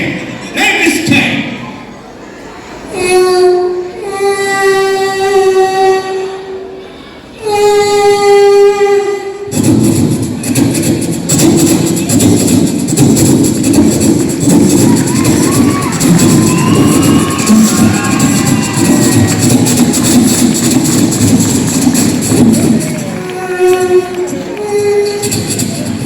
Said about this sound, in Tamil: ட்ரெயின் கிளம்ப போகுது.